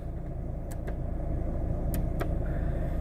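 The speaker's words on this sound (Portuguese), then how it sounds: "esse carro aqui é o Cronos, tá?" Steady low road rumble and engine drone inside a Fiat Cronos on the move at night in Aracaju, with a few brief clicks and faint high ticks over the continuous cabin noise; no one speaks.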